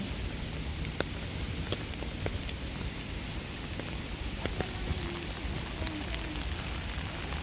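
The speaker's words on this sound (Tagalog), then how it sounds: "Kaso umuulan nga." Steady rain falls outdoors on a city street with malls in A Coruña, Spain, a dense continuous patter with occasional sharper drips, moderately loud and unbroken throughout, with no voices.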